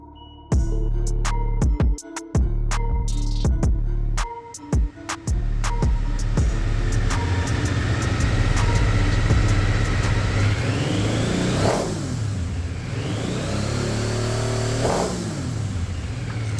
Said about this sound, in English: Today we're starting off with my 2000 Triumph Thunderbird 900 Triple.